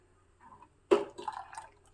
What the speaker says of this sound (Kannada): ಮಿಕ್ಸಿ ಜಾರ್ಗೆ ಸ್ವಲ್ಪ ನೀರನ್ನ ಹಾಕ್ಬಿಟ್ಟು ಹಾಕ್ತಾ ಇದ್ದೀನಿ